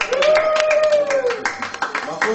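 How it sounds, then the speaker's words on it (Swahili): Hands clapping in a dense, steady burst of applause with a sustained tone running through the first half. "Makofi tafadhali, tafadhali,"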